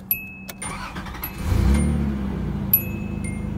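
A 1986 Nissan 300ZX Z31 engine cranks briefly and catches, then settles into a steady idle, heard close and fairly loud with a few faint clicks around it and no talk.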